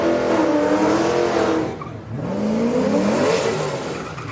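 Two street cars, a Camaro and an Eclipse, race at a Friday night street car event, with loud rising engine revs, a brief dip in the roar, then renewed acceleration and shifting gears.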